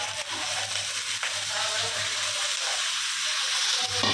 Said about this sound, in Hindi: चिकन डालेंगे, चिकन को भी इसके अंदर अच्छे से भून के लेंगे।